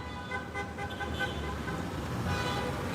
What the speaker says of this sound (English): We'll wait for all the honking to go by.